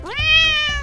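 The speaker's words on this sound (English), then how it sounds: "Kids, do you know which animal goes meow?" A single cat meow, clear and close, rising in pitch and then holding a bright, drawn-out tone for just under a second, alone without talk.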